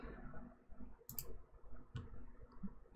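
A few sharp mouse clicks in the Unity editor, faint and close, spaced out over a quiet low hum.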